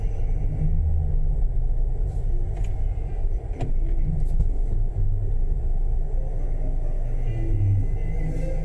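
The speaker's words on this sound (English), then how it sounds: "So there's the cars going in there." Cars driving into the Robroyston fruit market area in North Glasgow, Scotland, make a continuous close engine rumble and tyre drone, with a few faint knocks over the steady traffic noise.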